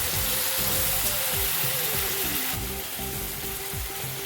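Ginger garlic paste sizzles and fries in a hot pan for a soybean curry, a continuous close crackling hiss with occasional scraping stirs.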